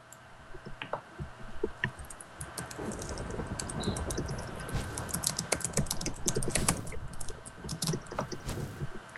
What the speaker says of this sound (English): You just hear a bunch of clicking